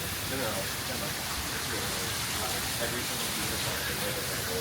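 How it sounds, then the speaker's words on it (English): Waterfalls at a Disney theme park area, a constant broadband splashing rush like heavy rain, loud and even from start to finish. "I do love all the waterfalls back here."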